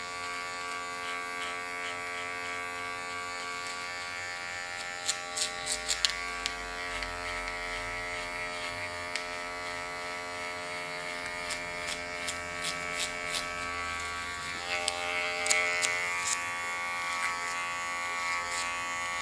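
Electric hair clipper cutting a woman's hair at a salon, a steady close buzzing hum with small clicks and snips scattered through it, no talking.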